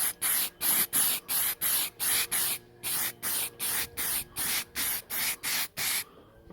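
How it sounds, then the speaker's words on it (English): An aerosol can sprays undercoat onto a plastic model kit sprue in about fifteen short, evenly spaced bursts, loud and close, each a sharp hiss. "And again, just give that one another quick spray."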